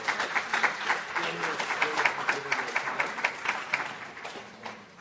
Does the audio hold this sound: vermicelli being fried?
no